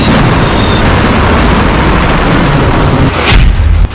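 A Russian Yars ballistic missile test launch gives a loud, sustained roaring rumble that fills the whole stretch, with a sharper burst swelling near the end.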